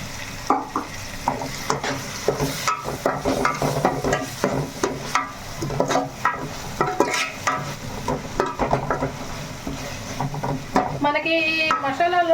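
Onions frying in a pan as spice paste is added and stirred for a curry, with busy scraping and stirring strokes over a steady sizzle, and a brief clatter near the end.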